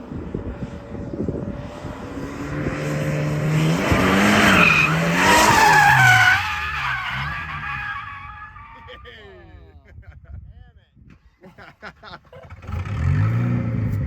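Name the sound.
drift car skidding during a run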